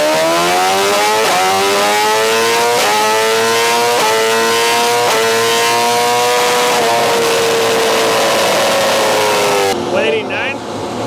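A 2023 BMW S1000RR motorcycle engine revs loudly against its rev limiter, with a rising, stuttering wail broken by repeated sharp cut-outs, close and continuous until it drops away at the end.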